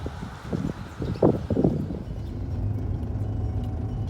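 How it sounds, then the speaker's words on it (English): A Rover 45 Connoisseur with a 2.0 V6 engine runs smoothly on the move, a low, quiet, even hum with road noise and a few brief bumps. "the immediate thing that strikes me about this car is how smooth the V6 engine is"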